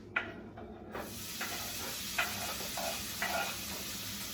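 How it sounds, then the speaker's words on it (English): Onion and peppers sizzling in a hot skillet, a steady crackling hiss with a few soft clinks of stirring, close and fairly quiet. "the onion you cut up, you just add it to the skillet"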